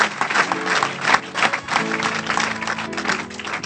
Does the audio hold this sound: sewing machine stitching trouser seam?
no